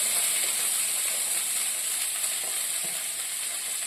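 Ground cumin hits a hot frying pan, and a dense, steady, close sizzle of hissing oil holds at one level throughout without pause.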